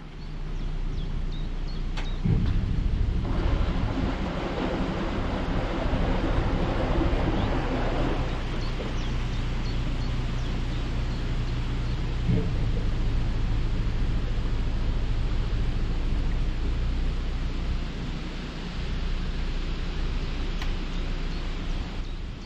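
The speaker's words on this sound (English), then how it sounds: "So when you open it up and send it out onto the canal, you get a bit more water." Water rushing through an opened lock on the narrow Oxford Canal: a continuous, loud, broadband roar with a low rumbling base, steady for the whole stretch, with a few faint knocks and no talking.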